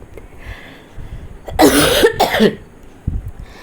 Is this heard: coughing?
yes